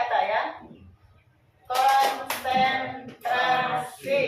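Schoolchildren in an elementary school classroom follow a clapping-and-thigh-patting exercise, with short bursts of hand slaps mixed into loud overlapping young voices that drop to near silence partway through.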